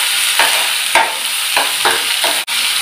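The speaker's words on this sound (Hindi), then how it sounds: "प्याज को हमें 30 सेकंड के लिए भून लेना है" Chopped onion frying over a high flame in a pan for masala green beans gives a steady, loud sizzle, with several scraping stir strokes and a brief pause near the end.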